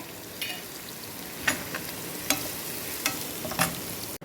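Onions with masala spices frying and sizzling in a pan for a hariyali chicken dish, a steady sizzle broken by several sharp stirring scrapes, close and moderately quiet, with no talking.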